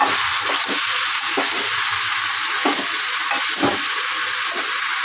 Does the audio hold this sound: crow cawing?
no